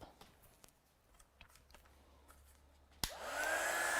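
A hair dryer switches on abruptly and runs as a loud, steady blowing whir, drying a coloured card piece for a folding note card, after a stretch of quiet handling noises.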